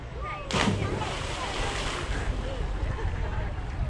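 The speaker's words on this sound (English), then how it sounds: "Give you some waves to deal with." Waves from a passing boat slap and wash around a stand-up paddle board on a canal, a broad rushing surge that starts with a sudden splash and keeps churning under wind noise on the microphone.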